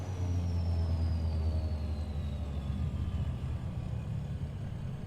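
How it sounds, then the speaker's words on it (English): Beechcraft Baron B58P piston engine with turbocharger in Microsoft Flight Simulator 2020, a steady low drone with a thin whine gliding slowly downward above it, heard alone. "You can even hear the turbocharger."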